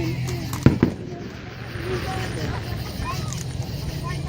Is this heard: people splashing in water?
no